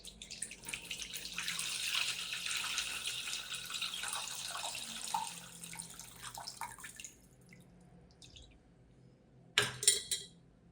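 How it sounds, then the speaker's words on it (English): Water is filtered and poured for a rice-water orchid fertilizer mix, a steady soft trickling stream running for several seconds before it tapers off, then a couple of brief splashes, quiet and close with no speech. "Then you will filter this water."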